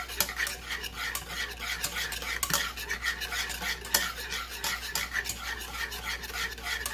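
A spoon scrapes steadily around the bottom of a pan, stirring a melting beef cube for gravy, with a continuous close-up rubbing and clinking rhythm and no talk.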